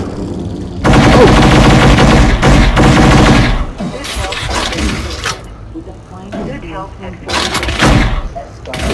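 Loud bursts of gunfire in the VR shooter Cargo Breach, long rapid volleys and shorter shots packed close together, with a player's voice and exclamations in between.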